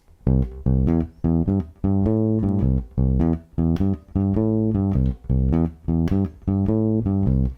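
Bass guitar plays a repeating blues shuffle riff, steady rhythmic phrases of low plucked notes with short gaps between them, alone and clear.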